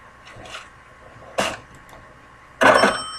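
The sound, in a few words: old-fashioned cash register drawer opening sound effect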